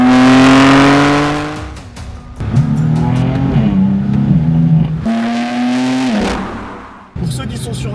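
A BMW M4 CS engine revs loudly and close, pitching up and down through several sharp throttle blips and drops, with short pauses between bursts and a final crackling rise.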